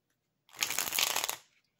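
A tarot deck riffled in one quick, crisp burst of rapid fluttering clicks, close and clear, lasting about a second.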